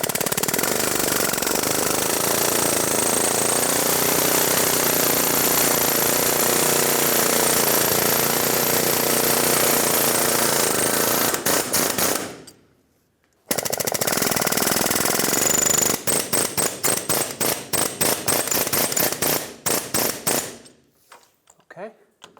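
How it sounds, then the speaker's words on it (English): Air chisel hammering on a rusted steering rack part of a 1996-2002 Toyota 4Runner, a loud, continuous rapid rattling for about twelve seconds, then after a brief pause, repeated shorter bursts before stopping. "I'm going to use an air chisel and just gently try to vibrate it until it comes off"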